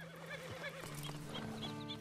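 A horse in Red Dead Redemption 2 gives a loud whinny at the start, followed by hoof clip-clops and a second neighing call against steady background game music.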